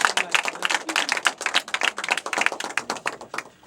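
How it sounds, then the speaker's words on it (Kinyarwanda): A small church choir group claps for Nadine during a talk show, a brisk run of close hand claps from a few people, uneven and lively before fading at the end. "amashyi menshi kuri Nadine"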